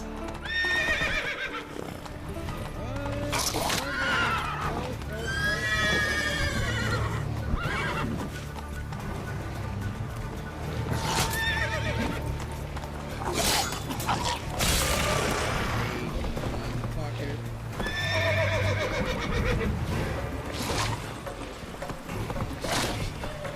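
Horse hooves clip-clop steadily beneath repeated whinnies and neighs in The Witcher 3, with game ambience and scattered battle noises running throughout the long stretch.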